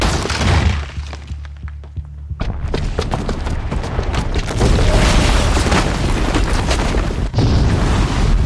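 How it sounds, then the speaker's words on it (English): A bomb booby trap blows up in Horizon Zero Dawn, a loud explosion followed by a long roar of shattering, crashing debris and rumbling. "the booby trap on the bomb downstairs is gonna get set off"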